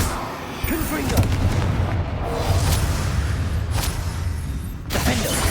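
A Confringo fire spell blast in Hogwarts Legacy, a loud booming burst followed by rumbling echoes, with a voice calling out spell names over the combat noise.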